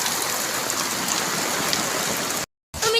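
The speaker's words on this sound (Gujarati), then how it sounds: "વરસાદ બંધ નથી થતો, પાણી બંધ નથી થતું." Heavy rain pours with rainwater running along the ground, a dense, steady loud hiss that fills the scene, broken by a brief silent cut near the end before resuming.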